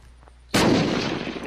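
A single loud, close shotgun blast in the Kilmore video game, a sudden sharp boom after a quiet moment that rings out with a long, booming decay.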